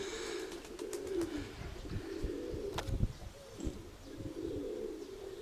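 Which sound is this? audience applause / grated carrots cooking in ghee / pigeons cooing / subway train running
pigeons cooing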